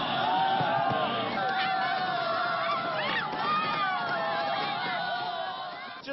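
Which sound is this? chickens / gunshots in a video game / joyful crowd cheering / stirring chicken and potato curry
joyful crowd cheering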